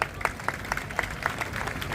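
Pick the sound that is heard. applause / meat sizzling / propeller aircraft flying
applause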